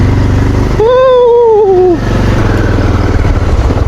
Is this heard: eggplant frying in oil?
no